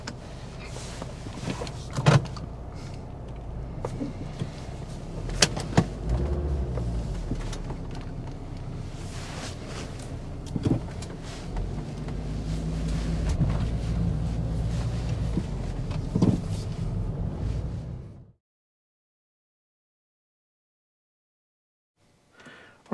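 A 2005 Volvo V70 2.5T on the road, with a steady low engine and road rumble from inside the cabin and a few faint knocks, running for about eighteen seconds before it cuts to near silence.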